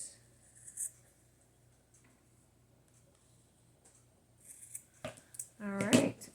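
Scissors trimming paper in a crafting session, a short burst of crisp snipping near the end after mostly quiet room tone.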